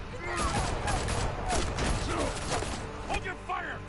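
Gunfire rattles in rapid, overlapping bursts during a tense standoff scene in Batman: The Telltale Series video game, with mechanical clatter and voices mixed in.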